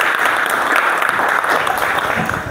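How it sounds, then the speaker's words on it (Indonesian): Applause from a class of students during a teaching practice session, steady clapping that fills the whole moment at close range with no talk over it. "Tepuk tangan untuk Tegar"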